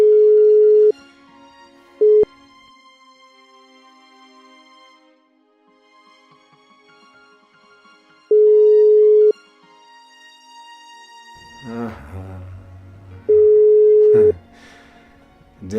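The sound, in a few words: unanswered phone call tone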